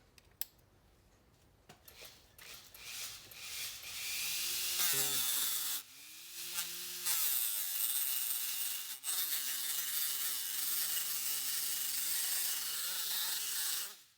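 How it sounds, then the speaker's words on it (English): A Dremel rotary sander works on a piece of pine wood, producing a steady high whir with a shifting motor pitch as it grinds against the grain, running continuously after it switches on. "I just have to turn this on. It's on a Dremel."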